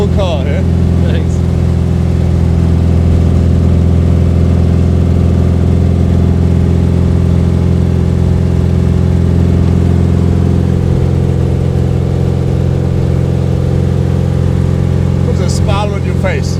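A 1955 Porsche 550 Spyder replica drives along with a steady, loud engine drone and harmonic hum that holds for the whole stretch, and voices talk faintly near the end.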